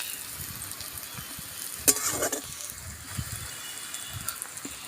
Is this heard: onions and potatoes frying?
yes